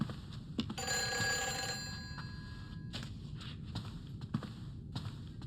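An old-style telephone rings once in an apartment in the Silent Hill 4 video game, a clear bell tone standing out over low ambient noise and scattered soft footstep-like knocks.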